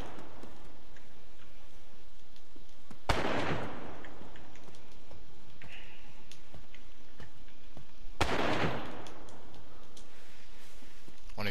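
Two distant gunshots crack in the video game DayZ, one around three seconds in and another near eight seconds, each a single sharp report with a short decaying tail over quiet ambient background.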